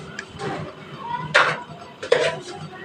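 Chicken goes into a pan with utensils clattering. Two sharp metallic knocks stand out over a low kitchen background, and faint voices are heard.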